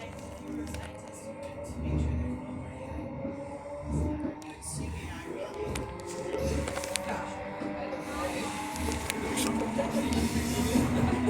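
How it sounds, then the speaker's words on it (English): A train rolls steadily along the rails during a day-out journey, with a continuous rumble, rhythmic clickety wheel noise and faint squeals throughout, close and fairly loud, with some voices in the background. "I like the train driving noise,"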